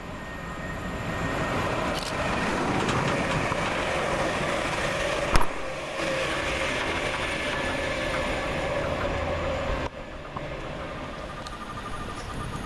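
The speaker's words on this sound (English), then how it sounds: "Next for East Midlands Railway is 360-114 and 360-106, working 1H39 from Corby to London St Pancras International." East Midlands Railway Class 360 electric units 360-114 and 360-106 running through Flitwick railway station on a Corby to London St Pancras service, a sustained rushing roar with faint rail clatter, close and steady.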